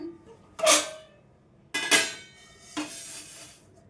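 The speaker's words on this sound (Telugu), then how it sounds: "ఇవైతే ఒక ప్లేట్లో వేసేసుకుందాం" Fried vermicelli being tipped from a pan onto a plate, giving three separate bursts of scraping and clattering cookware, close and moderately loud, with quiet gaps between and no talk.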